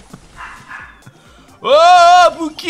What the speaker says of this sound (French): Si vous entendez un chien aboyer derrière